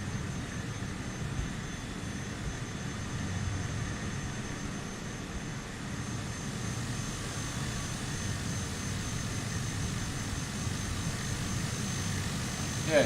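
A steady, droning airplane engine hums continuously in Microsoft Flight Simulator during a bush flight over Iceland, with an even, unbroken tone at moderate loudness.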